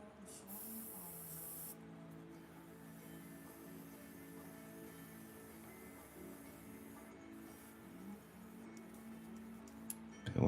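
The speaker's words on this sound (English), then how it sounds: "What is this airbrush doing?" An airbrush gives a short hissing spray burst at the start, followed by faint ticking and quiet mechanical rattling in an otherwise calm workshop.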